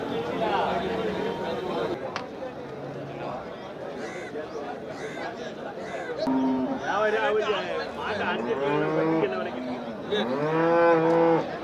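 Cattle moo repeatedly at the Melapalayam cattle market, with loud, drawn-out calls over a steady crowd murmur and people talking nearby.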